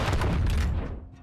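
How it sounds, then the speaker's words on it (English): A Tempest Cannon, a mobile storm cannon in the war game Foxhole, fires one heavy, booming shot that rolls out and fades over about a second. "The Tempest Cannon, a mobile storm cannon."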